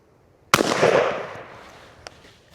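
A shotgun fires a single birdshot shell outdoors with a sharp, loud blast whose report rolls off and decays over about a second, followed by a faint distant knock.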